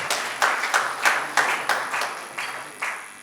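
A few people clap in slow, separate strokes, roughly a dozen sharp claps spaced unevenly and fading toward the end, close and clear in a quiet room.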